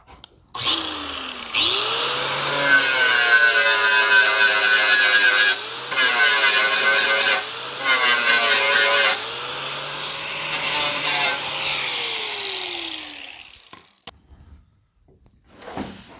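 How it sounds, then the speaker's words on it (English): A saw cuts a notch into the back of a wooden drawer in a workshop, a loud, sustained buzzing cut broken into several passes by short pauses, then winding down and stopping near the end. "Then I am going to notch the back of this drawer instead."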